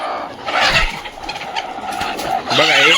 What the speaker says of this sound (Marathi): हे शेडमधल्या कोंबड्या दाखवतो मित्रांनो